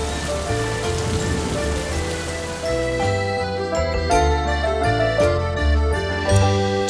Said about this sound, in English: It rained a lot.